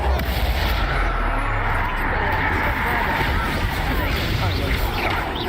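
Confringo blasting spell explosions from the game Hogwarts Legacy, dense booming blasts and rumbling impacts filling the whole stretch, loud and continuous with layered combat noise and no pause.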